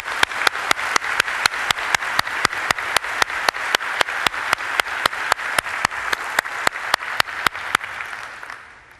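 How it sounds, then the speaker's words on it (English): Audience applause at an FMI gathering honoring three community members: a steady, dense round of clapping that holds evenly for several seconds, then thins and fades at the end. "Please join me in a round of applause for these three outstanding members."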